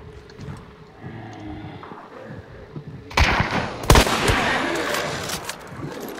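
Gunfire in the Hunt: Showdown game near a red building: after quiet movement, a sudden loud burst of shots at about three seconds, with a sharp crack near four seconds and continued noisy firing that sustains to the end.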